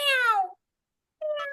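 A voice imitates a cat's meow: a drawn-out falling meow, a short silence, then a briefer second meow, close and clear.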